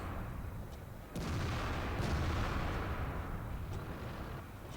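Enemy artillery fire in World of Tanks on the Fjords map, opening with a sudden broadband boom near the start and settling into a sustained rumbling blast that fades slowly over several seconds.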